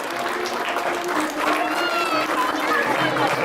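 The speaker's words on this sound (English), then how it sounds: "give them a big round of applause" An audience applauds after a play, a dense and steady wash of clapping mixed with crowd chatter and cheering voices throughout.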